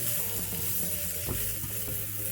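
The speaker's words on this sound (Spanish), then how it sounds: "Estos son muy delicados, entonces simplemente los vamos a freír por un minutito." Delicate scallions for japchae frying in oil, a close, steady sizzle with a few quick scraping stirs of a utensil in the pan over a low constant hum.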